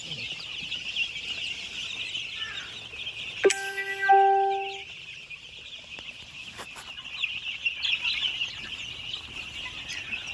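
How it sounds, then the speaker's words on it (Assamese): A brooder full of 15-day-old Koiler chicks fills the space with constant shrill peeping, close and dense, with a bell-like tone ringing once midway. "চাওক পোৱালি কিমান ষ্ট্ৰং হৈছে, পোৱালিকেইটা কিমান ডাঙৰ ডাঙৰ হৈছে 15 দিনত"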